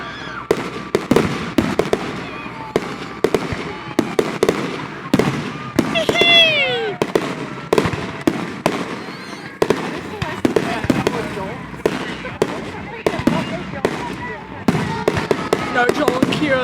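Fireworks go off in rapid, loud cracking bursts with sharp repeated pops and a rising whistle, the explosions coming in quick irregular clusters as people react and talk excitedly nearby.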